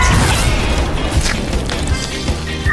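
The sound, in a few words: explosion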